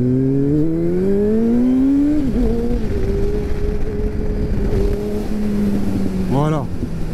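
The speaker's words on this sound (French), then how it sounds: "Dès que le moteur, tu sens qu'il s'emballe, t'envoies fort les gaz." A motorcycle engine revs hard as the rider opens the throttle to lift into a wheelie. The loud engine climbs in pitch, holds at a high, steady drone, then gives a quick blip near the end.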